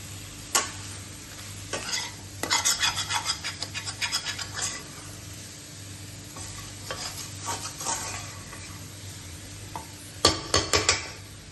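A spoon stirs chicken curry gravy in a hot pan, making rhythmic scraping strokes in quick bursts over a steady low sizzle, close and fairly quiet, with pauses between rounds of stirring.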